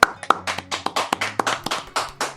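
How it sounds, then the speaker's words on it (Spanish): A small group clapping at a Spanish-language podcast recording, sparse, separate hand claps in an irregular rhythm, close and fairly loud, with no one speaking. "Aquí hay gente aquí, aplaudan por favor."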